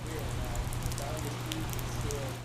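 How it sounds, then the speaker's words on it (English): Steady rain falling and dripping through a hurricane-damaged roof of a fire district office, a dense continuous patter with scattered splashes over a low hum. "On this day, rain comes through parts of the roof"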